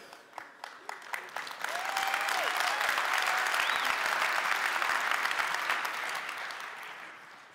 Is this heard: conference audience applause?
yes